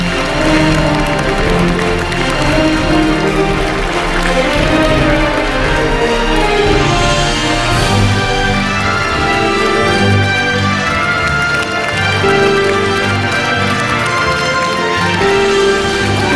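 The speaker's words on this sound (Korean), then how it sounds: "큰 박수 부탁드립니다." Audience applause and cheering at an outdoor event welcoming South Korean President Moon Jae-in, a loud dense wash of clapping from a large crowd that holds steady throughout.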